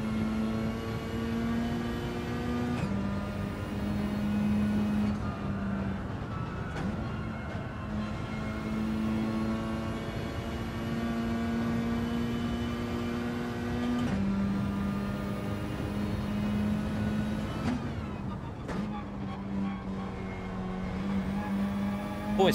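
A Lexus RC-Z engine in Gran Turismo 7, held at high revs in long sustained drones with brief dips at gear changes, steady and prominent throughout with no talking over it.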